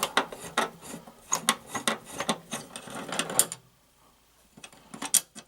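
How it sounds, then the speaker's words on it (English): A water heater's access cover is being removed by hand, with close metallic rattles, clicks and scrapes coming in quick bursts, a brief quiet gap, then a few more handling knocks. "I will start by taking the cover off and see what we find."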